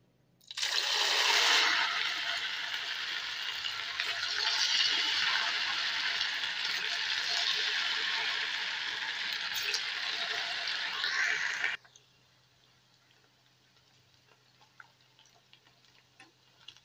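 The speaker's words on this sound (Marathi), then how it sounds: "आतां हांव तेतून मेंदू वडा घालून फ्राय करून घेता बरें" Rava medu vada dropped into hot oil fry with a loud, bright crackling sizzle that holds for about eleven seconds, then cuts off abruptly to a quiet background.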